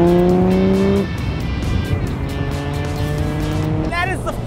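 A 1952 Jaguar XK120 accelerates hard around the Road America racetrack, its engine rising in pitch through gears, loud and close, then a brief tire squeal near the end, with someone talking over it.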